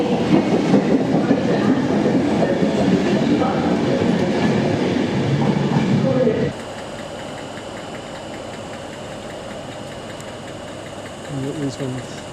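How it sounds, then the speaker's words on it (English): A Liverpool Street-bound train pulling away from a station platform in East Anglia, with loud rumbling and rail clatter that cuts off abruptly partway through, leaving quieter platform ambience; people speak nearby throughout. "that's the Liverpool Street Station train leaving."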